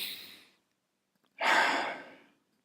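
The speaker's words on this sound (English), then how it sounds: "Breathing through the nose 2 or 3 times brings you back to the now, brings you back to calmness." A person breathes slowly through the nose as a calming technique for handling pressure in sport: two soft breaths, the first gentle and fading, the second a stronger, longer exhale, close and alone with no talk.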